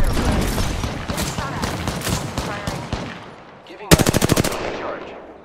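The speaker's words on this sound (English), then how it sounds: "I am taking fire." Gunfire in the video game Apex Legends: busy in-game battle noise gives way to a loud, close burst of rapid automatic shots lasting under a second, followed by a quieter tail.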